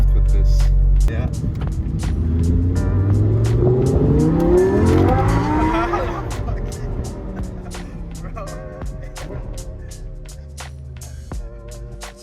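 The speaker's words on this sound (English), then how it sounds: "let's go for a little drive here. Should I do a little pull here?" A 2006–2015 Audi R8 accelerates hard, its engine note climbing loudly through the revs before easing off, with people talking in the cabin over the engine.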